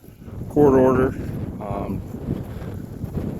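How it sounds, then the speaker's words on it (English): Wind buffets an outdoor microphone, producing a low, uneven rumble throughout as a person speaks briefly over it. "I apologize for the wind."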